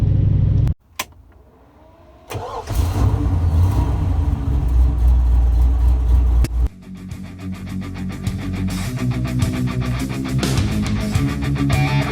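A 1969 Chevy Camaro with a 327 engine starts with a short crank, then settles into a loud, steady close-up idle with a brief rev partway through, and no talking over it.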